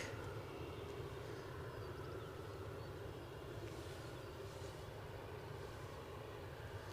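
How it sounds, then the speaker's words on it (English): A Loganair Embraer jet near Aberdeen airport gives a steady, distant engine roar. The rumble is low and broad and sits at a constant, faint level, with no voices. "I've got a Loganair Embraer not too far behind it."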